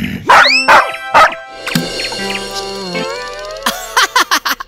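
Several short, sharp dog barks at the start, then a pause with whining and grunting noises, followed by a quick run of yappy barks near the end.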